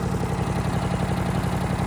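A swapped-in engine on a Toro lawnmower idles close by with a steady, even throb. There is no talking.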